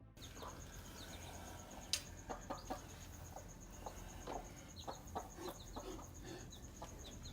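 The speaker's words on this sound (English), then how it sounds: "a mother chicken was seen tending to her clucking little ones" A mother hen and her chicks cluck softly in a natural outdoor setting, with short scattered calls over steady background noise and a faint insect-like tone.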